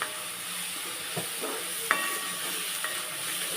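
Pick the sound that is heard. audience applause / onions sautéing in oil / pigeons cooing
onions sautéing in oil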